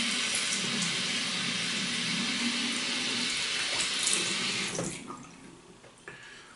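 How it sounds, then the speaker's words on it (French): Tap water runs steadily into a sink as a face is wetted during a traditional wet shave, a loud close rush that thins out near the end with a few splashes. "Je me mouille la figure"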